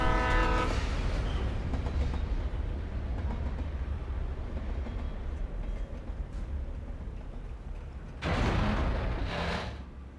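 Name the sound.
train passing in a video game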